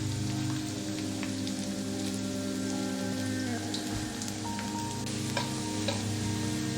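Garlic and ginger deep-frying in hot oil for veg Manchurian crackle in a steady, dense sizzle much like rain on a surface, with occasional faint stirring taps, continuous and close.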